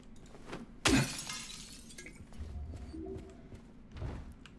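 Glass shatters once in the Silent Hill 2 Remake video game, a sharp, loud crash that quickly fades into quiet, low game ambience with a soft thud near the end.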